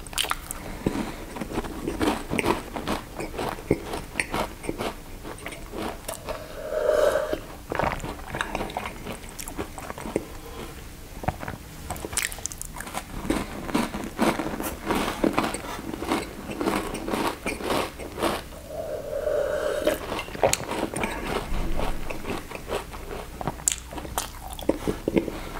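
Close, crunchy biting and chewing of Milka chocolate sweets and cookies, repeated bites and mouth sounds over a long stretch, with a brief murmured voice.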